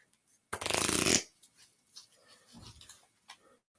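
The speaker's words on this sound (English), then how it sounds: "These cards are brand new, so I'm gonna have to shuffle them" A brand new Orisha card deck riffled in one loud, dense burst of crisp flutter lasting about half a second, followed by faint handling rustles and quiet low thumps, close up with no talking.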